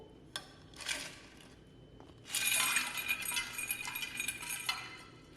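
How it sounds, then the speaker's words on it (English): Ice cubes drop into a glass of water at a science workshop, giving a few sharp clinks and then a longer burst of rattling, tinkling glassy knocks as more ice tumbles in, close and clear. "We're gonna put a little bit of ice into the water."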